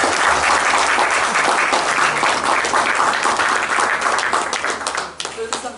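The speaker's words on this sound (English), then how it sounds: "A big round of applause." An audience applauds at a 97th birthday celebration for Sri Sathya Sai Baba in Hamilton, New Zealand, with loud, dense clapping that thins out near the end and a voice faintly underneath.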